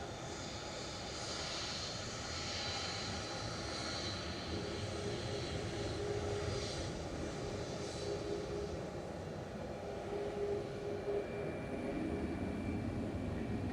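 A Ryanair Boeing 737 MAX 8 departs from Manchester Airport with a steady, moderately distant jet engine roar that holds through the whole stretch, no voices present.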